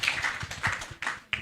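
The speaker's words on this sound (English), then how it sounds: "please applause" An audience at a conference pavilion event clapping, a short patter of scattered hand claps with uneven loud hits.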